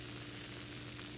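Turkey sizzles as it fries in a pot for a sorrel sauce dish, a brief, steady crackling hiss with no pauses and no voices.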